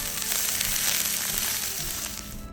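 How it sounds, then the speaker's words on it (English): Cabbage fries in a very hot wok, giving a loud, steady sizzle and crackle that fades out at the end. "And then we're gonna get our cabbage in right away. Cooking with the wok is always cooking with hot,"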